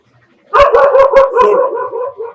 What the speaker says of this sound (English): the dogs are barking right now